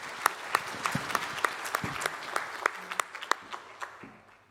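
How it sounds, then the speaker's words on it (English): A small group at a conference Q&A session applauding, steady rhythmic clapping that gradually thins out and fades toward the end. "If you give everyone a round of applause, thank you very much for your time."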